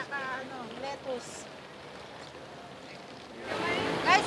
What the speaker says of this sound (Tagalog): Umuulan po.